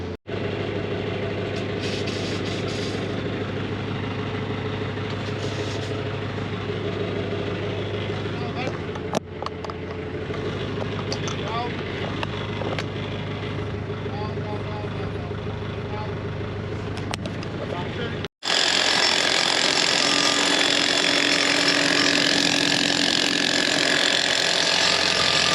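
A forklift engine idles steadily as it lifts a heavy-duty wash ramp, giving a continuous low, droning hum that holds for most of the clip before the sound shifts abruptly to a brighter, hissier steady noise near the end.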